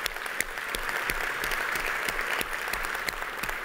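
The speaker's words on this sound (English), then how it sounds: "Let's give SME and TCT folks a round of applause" Applause from a large keynote audience at an additive manufacturing and 3D printing conference, a steady wash of many hands clapping at moderate distance with a few sharper nearby claps standing out.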